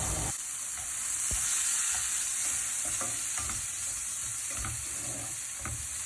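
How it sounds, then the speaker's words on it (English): Tomatoes added to softened onions frying in a pan: a steady loud sizzle with scraping and stirring clatter, irregular utensil knocks on the pan throughout, no talk. "So now is a good time to add the tomatoes."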